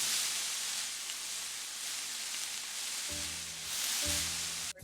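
Spinach cooks in a pan over medium-low heat for Persian Nargesi, giving a steady, fairly loud sizzling hiss that runs throughout, with a brief low hum near the end.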